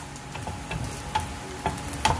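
Onion tipped into a pan of browned garlic crackles and sizzles softly, a steady fry with a few sharp ticks of stirring, close by and with no voices.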